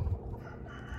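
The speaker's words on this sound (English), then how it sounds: "Chickens, you guys should not be out here" Chickens on a homestead cluck briefly close by, a short burst of throaty farmyard calls.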